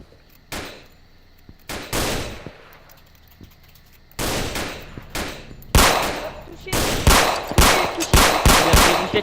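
Bursts of automatic gunfire in the Roblox game Emergency Hamburg, loud, sharp volleys arriving in clusters after a quieter opening, with several rapid shots repeating toward the end and faint voices under it.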